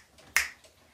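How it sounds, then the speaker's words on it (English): A single crisp finger snap, close and sharp, with a short decay and near silence on either side. "If you're happy and you know it, snap your fingers."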